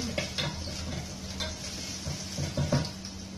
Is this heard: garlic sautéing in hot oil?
yes